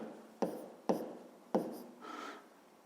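Writing numbers by hand while solving a math exercise: three distinct taps of the writing tool followed by a short scratchy stroke, close and quiet, with no talk.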